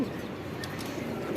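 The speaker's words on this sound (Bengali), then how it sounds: "এই যে এখানে যে কবুতরগুলো আছে শাহজাহানপুরি, এগুলো সব ইন্ডিয়া থেকে সরাসরি আনা।" Shahjahanpuri pigeons brought from India coo softly in a loft, a low, steady murmuring throughout the short stretch with no talk over it.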